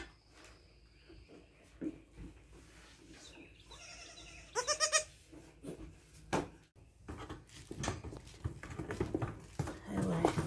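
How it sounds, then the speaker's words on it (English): Goats bleat in a farm pen, with one clear, wavering call near the middle and fainter animal noises, rustling and scattered knocks around it. "We in a pen with the goats."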